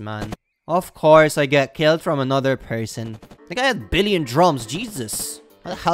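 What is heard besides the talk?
No everyday noise stands out behind the speech.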